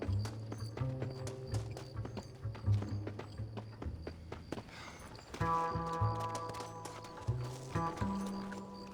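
A horse in the Red Dead Redemption video game clip-clopping along at a lively pace, its hoofbeats close and rhythmic over game music, with a brief snort or whinny.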